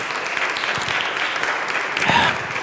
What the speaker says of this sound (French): When you're clapping your hands in the presence of God